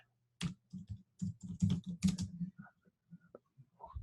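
Rapid typing on a computer keyboard, a dense run of close, crisp key clicks in quick bursts with short pauses, alone without speech.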